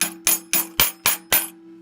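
Metal drum keys on a custom-built snare drum jingler, struck six times in a steady rhythm, each hit a bright short jingle with a faint ringing tone sustaining between strikes, close and isolated.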